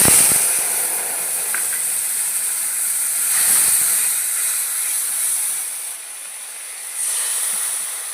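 Nigella seeds, poppy seed paste and green chillies hit hot oil in a pan, giving a close, continuous hissing sizzle that swells and dips without pause.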